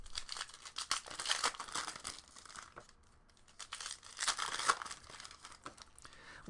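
Card pack wrappers crinkle and tear close to the microphone in a quiet room, in irregular crackling bursts with a brief lull in the middle and no voices.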